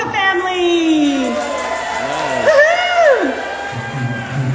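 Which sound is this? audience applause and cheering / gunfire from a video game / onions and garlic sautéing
audience applause and cheering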